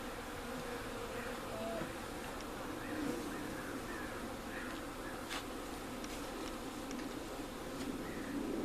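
Honey bees buzz steadily and densely throughout while a new colony is installed in a backyard hive, a continuous close-up insect drone with no talking.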